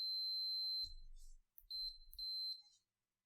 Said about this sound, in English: When the circuit is closed, you should hear the meter emit a distinct beep.